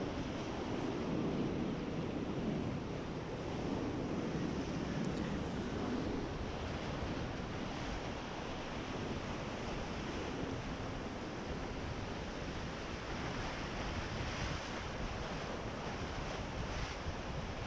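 Rushing whitewater of a rapid on the Illinois River at low summer flow, a steady broadband roar that holds at an even loudness throughout, with no voices.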